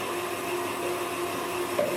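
A stand mixer whipping egg whites for passion fruit marshmallow while gelatine mixture is poured in, a steady motor whir with a constant whisking hum and no talk.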